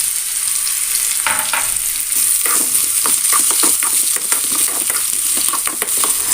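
Dried red chillies, shallots, raw mango and prawns frying in a pan, a steady close sizzle with scraping stirring strokes throughout, no voices.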